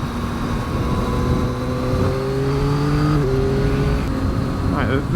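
A Yamaha MT-09 motorcycle accelerating, its engine note climbing steadily through the gears with a shift near the end, close and loud over constant wind rush.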